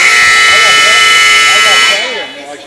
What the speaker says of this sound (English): As you can hopefully hear, there's the buzzer.